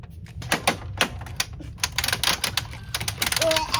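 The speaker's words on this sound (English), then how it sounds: "Stop clicking like that." A Hot Wheels dinosaur garage playset gives off rapid, uneven plastic clicking and rattling, close and fairly loud, in dense clusters throughout, with faint voices in the background.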